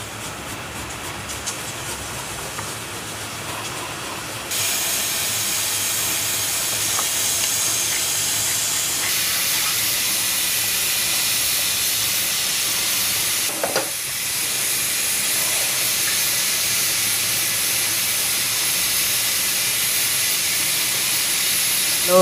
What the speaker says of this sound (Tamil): கொதிச்சாச்சு.